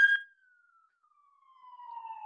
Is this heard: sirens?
yes